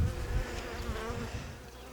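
Honey bees buzz densely around an open alpine-style beehive during expansion of a weak colony's nest, a loud, close, steady droning hum that swells slightly, with no talking.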